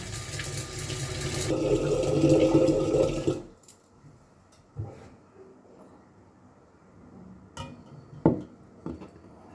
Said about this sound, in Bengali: এবার নতুন জল দেব, একদম ফিল্টার ওয়াটার।